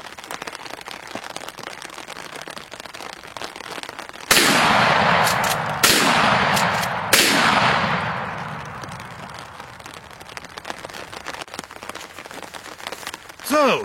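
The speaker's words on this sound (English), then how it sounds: "We're shooting from about 10 yards distance" Handgun shots fired from the hip at about 10 yards on an outdoor range: three loud, sharp cracks with ringing decay, the first and third strongest, set against a steady hiss of background noise.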